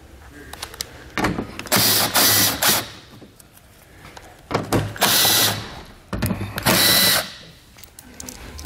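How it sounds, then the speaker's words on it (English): An impact or power tool with an 8mm socket removes bolts while a Curt trailer hitch is fitted to a 2014 BMW X1. It gives several sharp, loud bursts of whirring separated by short pauses. "We're going to take an 8mm socket. We're going to remove this bolt"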